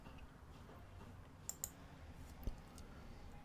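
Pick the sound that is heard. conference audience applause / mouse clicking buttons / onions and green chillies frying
mouse clicking buttons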